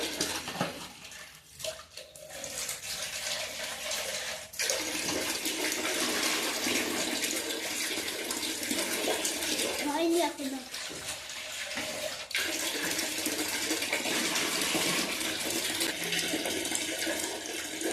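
Water pours steadily for washing clothes, a sweater being soaked by a young girl, with a close, continuous splashing rush that runs throughout and swells briefly midway.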